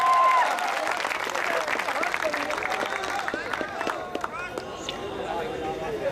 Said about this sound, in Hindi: जोरदार तालियों से स्वागत करें भाई सुरेंद्र आपके बीच में